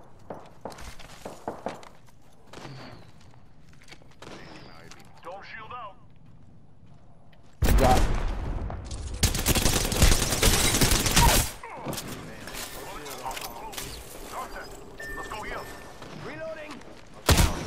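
In a video game, a burst of rapid gunfire hits the player, a loud, dense volley lasting a few seconds in the middle, with quieter footsteps and a voice talking around it.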